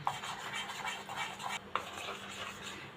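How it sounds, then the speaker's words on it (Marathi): Cornflour and oil are stirred into a thick paste in a bowl for puff patties, giving a steady close scraping and mixing sound with a few brief clinks and no talk. "अशा प्रकारे कॉर्नफ्लॉवरची पेस्ट करून घ्यायचे"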